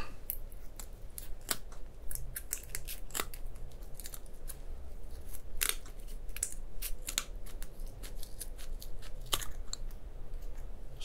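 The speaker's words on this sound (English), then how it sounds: "I just got to snip some bits off, right?" Scissors snip repeatedly and close up in a quiet Victorian medical roleplay, cutting away bits with crisp irregular clicks, some quick runs and some isolated cuts, over soft background rustle.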